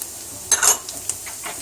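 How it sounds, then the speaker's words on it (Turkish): Ground beef frying in a pan for Turkish karniyarik, a soft sizzle broken by a brief scrape and clink of a spoon stirring, then quieter hissing, close and short. "Bu şekilde güzelce kızarana kadar kavurmaya devam edeceğim. Evet, kıymamız yavaş yavaş kavrulmaya başladı."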